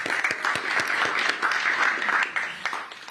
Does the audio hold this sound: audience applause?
yes